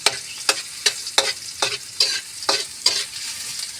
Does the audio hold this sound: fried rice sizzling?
yes